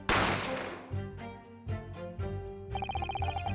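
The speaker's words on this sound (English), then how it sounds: "You heard the gunshot, you mean?" A loud gunshot sound effect from The Great Ace Attorney video game opens with a sharp crack and decaying rumble, followed by ringing tonal game music stings and chimes.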